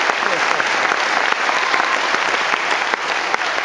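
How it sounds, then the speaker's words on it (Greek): An audience applauds at a 2013 concert in Naousa, Greece: dense, loud, sustained clapping from a crowd, even and unbroken throughout. "Αυτό το χειροκρότημα που χρωστάτε, αν θέλετε να τα έχετε καλά μαζί μου."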